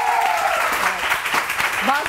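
Studio audience on a Pakistani morning show applauding as a guest, Dr. Khurram Musheer, is welcomed, dense clapping mixed with cheers and music, with a voice talking over it.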